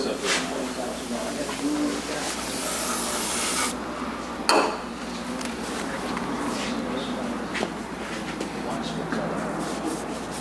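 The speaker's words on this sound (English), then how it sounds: "It's a spray choke cleaner." Choke cleaner hisses from a spray can onto engine parts of a Rolls-Royce Silver Cloud III during a tune-up, a steady close spray with a sharp clunk partway through; birds coo in the background.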